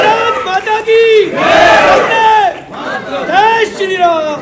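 A large crowd at a Hindu Yuva Vahini religious rally chants a slogan loudly in unison, with several rising and falling surges of many voices shouting together, close and dense.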